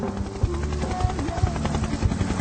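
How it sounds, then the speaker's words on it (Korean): A helicopter flies in over a factory as a sound effect in a radio story reading, its steady rotor thump pulsing beneath a continuous engine drone, fairly loud and close. "헬리콥터가 날아와"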